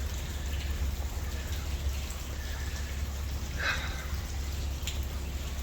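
Steady rain falls outdoors in Cardiff Bay, a constant soft hiss of drops on surfaces with a low wind rumble underneath and a few faint nearby splashes, with no voices.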